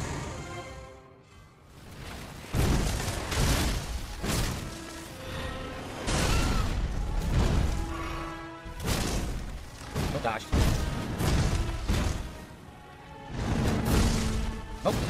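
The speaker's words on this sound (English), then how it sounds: "Oh, there's a second explosion? I didn't know that." Explosions and heavy impacts from the video game Elden Ring, dense booming thuds and crashes that roll on without a break, with someone talking over the game sounds throughout.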